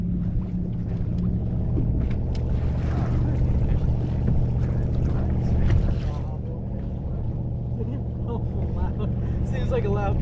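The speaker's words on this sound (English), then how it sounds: "Seems like a loud boat to be fishing out of." A loud powerboat motor drones steadily on Lake St. Clair, a low continuous engine roar with wind and water wash; people talk over it throughout.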